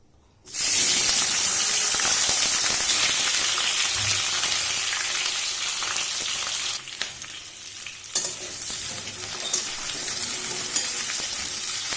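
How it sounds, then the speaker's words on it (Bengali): Capsicum pieces hit hot oil and break into a loud, sudden sizzle that settles into steady close frying, with occasional stirring clinks and scrapes. "এবার এই যে ক্যাপসিকামের টুকরোগুলোকে আমি কেটে রেখেছি, এবার আমি এগুলোকেও ভেজে নেব।"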